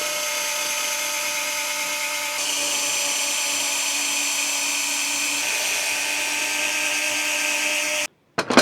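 Power drill boring holes for a bracket on a Suzuki Carry mini truck: a steady, close, high whine runs about eight seconds, its pitch shifting slightly twice, before stopping abruptly.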